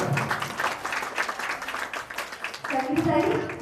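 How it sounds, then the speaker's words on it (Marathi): An audience claps at a haldi-kumkum ceremony, a steady patter of applause mixed with a voice speaking over it, swelling slightly toward the end. "तर आपल्यासाठी आपण जोरदार टाळ्या"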